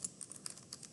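Fast, light typing on a computer keyboard, a quick irregular patter of soft close key clicks with no talking.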